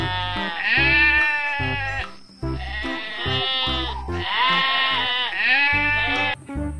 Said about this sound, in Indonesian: Di sini ada seekor domba.